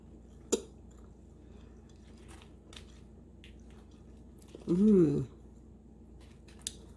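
Biting into and chewing a freshly made air fryer breakfast biscuit, a short soft bite then a burst of moist chewing up close, with quiet pauses around it.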